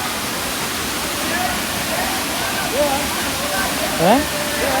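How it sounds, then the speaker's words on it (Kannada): Steady roar of Apsarakonda waterfall in Honnavara, a constant broadband rush of falling water close by, with faint voices and brief chirping sounds rising over it. "ಇದೇ ಅಪ್ಸರ್ಕೊಂಡ ಫಾಲ್ಸ್"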